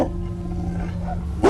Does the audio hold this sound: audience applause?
no